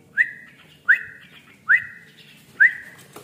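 A white-eyed buffalo myna (jalak kebo) gives four clear, short whistled calls, evenly spaced and close by, over a quiet background.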